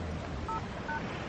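Telephone keypad dialing tones sound as two short, clean beeps, spaced apart, over a loud, steady low rumble.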